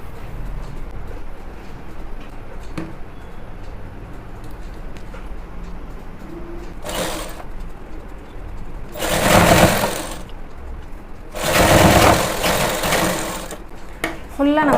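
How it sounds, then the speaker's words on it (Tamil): A sewing machine stitches folded pant fabric in three rapid rattling bursts, short then longer, against a quiet room with faint bird cooing and soft background voices. "மடிச்சுட்டு இப்போ தைக்க ஆரம்பிச்சிடலாம்."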